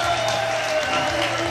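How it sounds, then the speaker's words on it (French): Crowd applause as rugby teams leave the pitch after a France versus New Zealand final, a dense continuous clapping wash from a gathered crowd, brief and steady. "Tout le monde s'applaudit, c'est normal."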